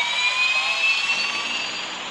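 Airliner jet engine number two spooling up in the Airline Commander flight game at São Paulo airport, a steady loud whine with rising tonal hum, no voices.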